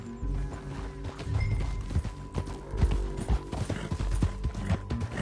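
Horse hooves beat a fast, steady galloping rhythm in the Western video game Red Dead Redemption 2, loud and close, with a few rattling mechanical knocks mixed in and no talking.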